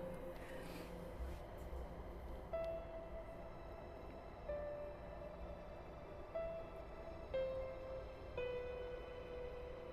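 A metro train in Ukraine rumbles steadily nearby, with a low continuous drone and brief tonal whines and beeps rising above it at intervals.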